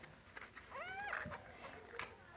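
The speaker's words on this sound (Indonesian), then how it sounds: "wajar ya apabila anak kucing mengeong-ngeong terus" A kitten meows with a rising, plaintive call, one clear cry followed by a fainter one, close by and fairly quiet, with a little soft speech around it.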